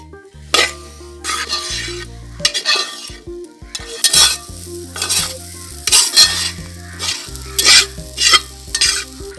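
Rice flour for Kerala avalosu podi being stirred and roasted in a pan with a small spatula, heard as repeated close scraping strokes against the pan with a faint sizzle, in an uneven rhythm with no talking.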